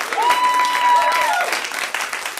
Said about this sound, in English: let's give a round of applause for Lana again